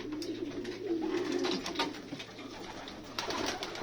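Breeding pigeons coo in a low, steady throaty rumble close by, with soft rustling around them and no talking.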